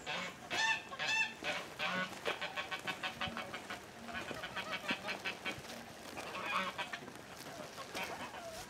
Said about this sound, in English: the geese stories, they just make so much noise